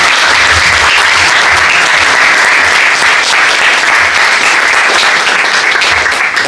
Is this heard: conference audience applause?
yes